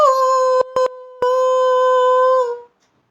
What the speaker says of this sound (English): Somewhere a jackal howled.